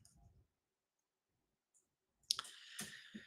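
Sparse, faint keystrokes on a computer keyboard at a desk while coding, a few scattered clicks in quiet surroundings, followed by a short burst of louder tapping near the end.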